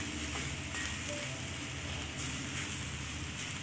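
Plantain peel stir-fry, kaya thondu thoran, sizzles steadily in a pan as it is stirred, a continuous close frying hiss with faint scraping and no talking.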